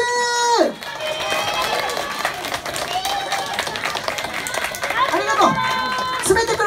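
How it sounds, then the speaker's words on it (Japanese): Audience at a Shibuya live house breaks into loud, dense clapping and cheering, with voices talking over the applause. "改めてみんなで大きな拍手。"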